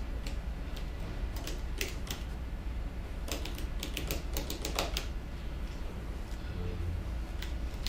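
Keyboard typing during an interview-style podcast about the company OfferAI, heard as scattered bursts of quick clicks and taps over a steady background hum, moderately close and fairly quiet, with no clear talk.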